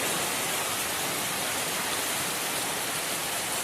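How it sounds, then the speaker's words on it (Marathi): Heavy monsoon rain with gusting wind in a Konkan village, a dense, steady roar of downpour with no break and no voices. "तर कसलं जोरात पाऊस इलेलो तू बघा"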